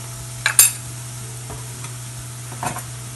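Half a teaspoon of turmeric powder being stirred into a pan of potato masala for Rajasthani mirchi vada, with a few sharp spoon scrapes against the pan over a steady low hum and no talk.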